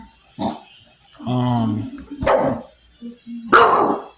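A pitbull barks several times in short, loud bursts with brief pauses between, close by, with a higher yelping bark among them.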